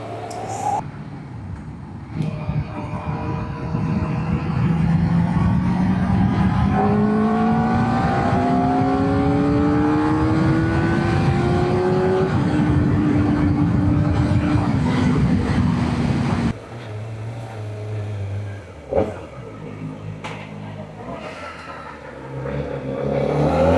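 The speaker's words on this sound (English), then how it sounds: "anytime I go into a car park, I have to rev the engine" A car engine revs hard in a car park, climbing steadily in pitch through several loud rising sweeps before dropping back to a lower idle and fading, with no talk over it.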